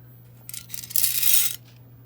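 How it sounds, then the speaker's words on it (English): Small upholstery tacks rattle and clink inside an empty old oval gravy tin, a dense metallic shaking burst lasting about a second, close and fairly loud, over a steady low hum. "What you're hearing is little tacks,"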